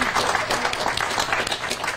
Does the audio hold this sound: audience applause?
yes